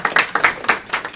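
Audience clapping, several quick, fairly close hand claps in a loose, slightly irregular rhythm, with no talking over them.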